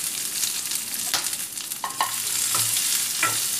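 Chopped shallots and green chillies sauté in hot oil in a pan for mulakevaruthapuli, a steady close sizzle broken by a few scraping stirs, with no voices.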